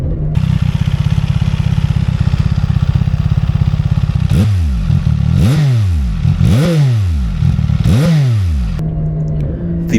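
A CFMOTO 675SS sport motorcycle engine idles with a rapid rumble, then revs sharply three times, each rise and fall loud and close, before settling back to idle.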